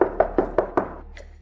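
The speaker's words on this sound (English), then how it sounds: "What are you knocking for?" Five firm knocks on a door come close and loud at an even, quick pace, followed by a faint brief sound as the knocking stops.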